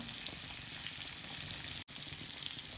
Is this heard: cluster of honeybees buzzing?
no